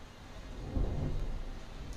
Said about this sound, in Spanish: Ese es un trueno, está lloviendo a cántaros.